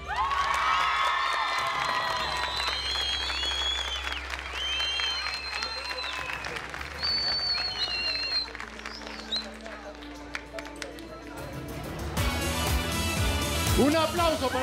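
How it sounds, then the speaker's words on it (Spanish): Studio audience at a Colombian televised talent show applauding and cheering for six acts heading to the semifinals, steady applause mixed with shouts under loud show music, swelling toward the end. "Un aplauso para estos 6 actos que ustedes han escogido"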